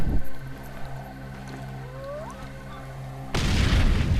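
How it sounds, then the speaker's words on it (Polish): A video game explosion in Far Cry 2 booms suddenly near the end, a loud burst of noise that cuts off a quieter stretch of steady droning game ambience. "Co tam wybuchło?"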